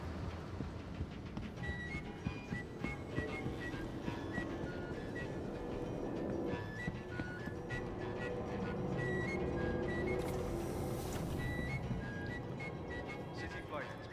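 A train rolls past in a continuous loud rumble with clattering and faint squealing tones, steady and fairly close, with an occasional voice underneath.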